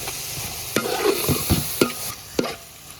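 Tomatoes fry in a pan under a steady sizzle while a utensil stirs and scrapes, giving several distinct knocks and scrapes spaced irregularly, close and fairly loud, with no voices.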